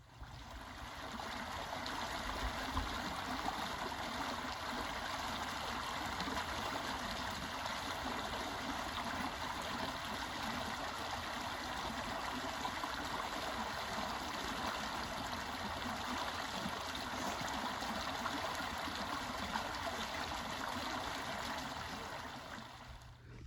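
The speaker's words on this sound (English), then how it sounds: "you can listen to some of the sounds of the water." A stream near a campsite in a state park flows with a steady, even rush of water, constant and moderately close, with no voices and no break throughout.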